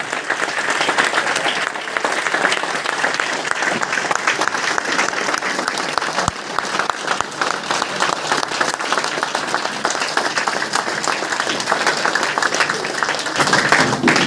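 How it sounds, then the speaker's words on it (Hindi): Women applaud steadily at a DXN meeting program in Khalilabad, a dense, sustained clapping that runs loud and even for the whole stretch with no talking over it. "जबरदस्त तालियां बजनी चाहिए"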